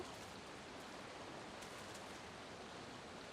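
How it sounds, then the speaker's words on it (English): Flowing water ambience in the video game Final Fantasy XIV Dawntrail, a soft, steady rushing hiss like a stream or falls, faint and unbroken with no music or voices. "You just hear the water."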